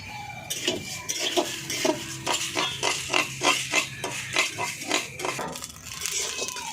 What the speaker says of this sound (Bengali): বন্ধুরা দেখো কত সুন্দরভাবে চালগুলো ফুটছে